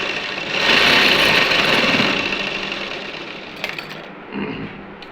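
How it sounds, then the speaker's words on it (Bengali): A sewing machine runs tack stitches on a housecoat, a continuous whirring drone that swells early, then fades with a few brief knocks near the end. "এই মাথাটা এসে অবশ্যই টাক সেলাই দেবেন।"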